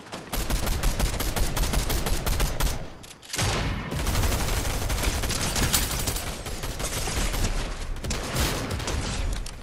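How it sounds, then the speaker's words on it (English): Dense, rapid automatic gunfire fills a shooting video game, loud and nearly continuous, with a brief pause before the bursts resume. "They're shooting you, watch it"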